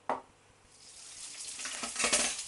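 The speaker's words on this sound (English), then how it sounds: "I'm going to cook these lovely cherry tomatoes. I'm going to fry them in a little oil." Cherry tomatoes frying in a little oil, a soft sizzle that starts with a sharp knock and builds into a louder, crackling fry, with no voices.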